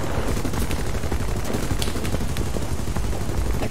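Aircraft gunner's machine gun fire in War Thunder, from a British plane: continuous, dense rapid-fire bursts over a steady engine roar, loud and close, with no voices.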